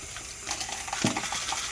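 Rinse water splashes and pours out of a pot while repotting a plant into semi-hydro, with a steady wet wash and a brief heavier gush partway through.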